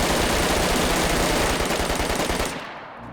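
M4 rifle from DayZ firing a fast full-auto burst at 900 rounds per minute, a dense, loud rattle of rapid shots lasting over two seconds before cutting off into a short fading tail.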